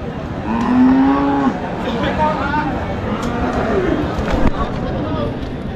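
Cattle moo loudly amid a busy crowd at the Amraid cattle market in Bangladesh, with people talking and chattering all around.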